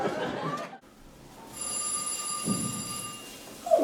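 An old-style telephone bell rings with a bright metallic trill that starts after a short pause, set against a muffled background.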